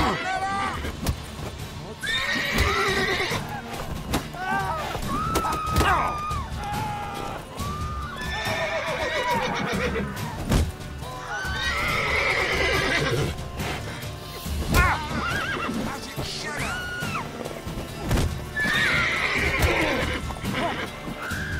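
Horses in The Witcher 3 whinny and neigh repeatedly with clip-clopping hooves, loud and close, mixed with other game sounds and voices.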